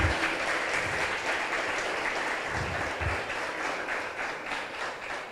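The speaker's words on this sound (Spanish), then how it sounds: "Denle un fuerte aplauso al Señor." Church congregation applauding during a service, a continuous even patter of many hands clapping at moderate distance, with no voices over it.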